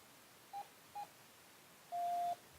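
A FrSky G-RX8 receiver beeps: two short tones about half a second apart, then one longer tone, clean and fairly faint over a quiet background.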